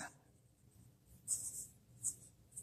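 A Wing Sung 233 fountain pen moves across paper, giving quiet, close scratchy strokes in short bursts over a near-silent background.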